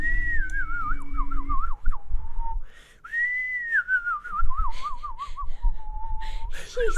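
A person whistles a wavering, warbling melody in two phrases separated by a short pause, close and clear with light background noise.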